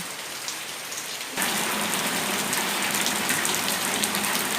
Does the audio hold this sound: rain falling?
yes